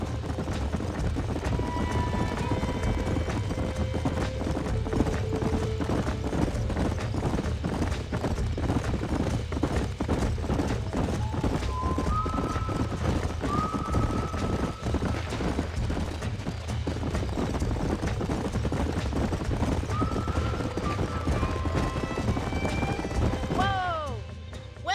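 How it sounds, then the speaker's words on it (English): Horses gallop in Red Dead Redemption with a steady, dense drumming of hooves under wind and movement noise, and a few whinnies and calls rising above it toward the end. "These are fine horses."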